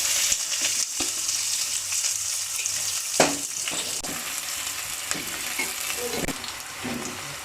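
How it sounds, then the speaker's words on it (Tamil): Onions fry in hot oil with fennel, fenugreek, garlic and curry leaves for a dried-fish curry, a steady close sizzle broken by occasional clicks and scrapes of stirring. "வெங்காயத்தை போட்டுக்குவோம்."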